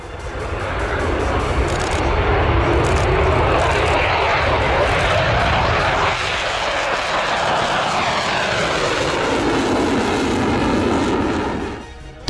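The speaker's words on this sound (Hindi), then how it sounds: "गरजते रहे रूस के फाइटर जेट्स।" Russian fighter jets roar overhead, a loud sustained broadband engine rumble that holds steady for about twelve seconds before cutting off sharply at the end, with no other sounds over it.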